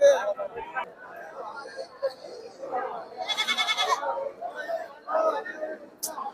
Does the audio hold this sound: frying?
no